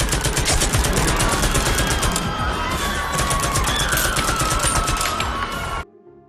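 Dense, rapid gunfire crackles continuously in loud bursts, then abruptly stops near the end.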